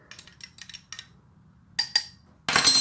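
A spoon stirs a Baileys cortado coffee in a cup, making several light metallic clinks in quick bursts, then a couple of sharper taps and a bright scraping rattle at the end, close up with no talk.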